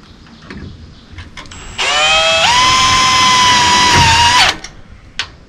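A power drill drives two screws into a solar tracker mount, one loud, steady whirring burst of about three seconds that climbs in pitch as it starts, then stops abruptly, close and without talk.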